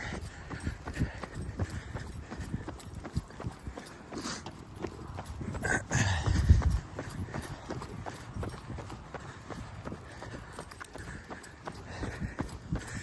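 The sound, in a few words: horse walking, hooves clip-clopping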